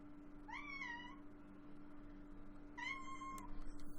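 A pet cat named Miss Kitty meows twice, each a clear rising-then-falling call about two seconds apart, close by over a steady low electrical hum.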